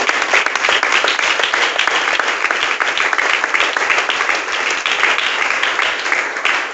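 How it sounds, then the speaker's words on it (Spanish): A church congregation applauds together in loud, sustained clapping that fills the space evenly throughout, with no voices standing out. "Un aplauso para el Señor."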